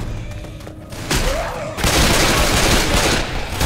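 Gunfire in Left 4 Dead 2 builds from scattered shots into a loud, dense burst of rapid fire with booming impacts, close and continuous for the last couple of seconds.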